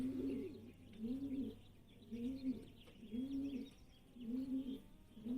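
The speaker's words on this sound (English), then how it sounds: "Are those the birds? The bird, like, hacking?" Pigeons coo in the video game Blue Prince, a steady run of soft, rolling calls repeating about once a second over a low background hum, with no talking.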